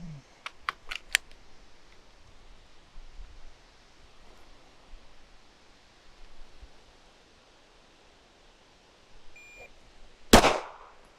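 Sharp shots at a shooting range: a quick burst of about four near-identical reports in the first second, a long quiet stretch, then one loud, close blast near the end.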